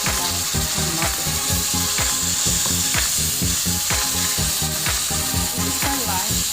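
Tomatoes fry in a pan in a rural Philippine home kitchen, giving a continuous sizzle under a fast, regular clatter like scraping or stirring, close and fairly loud.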